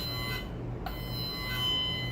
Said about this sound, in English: It's kind of a sick bell.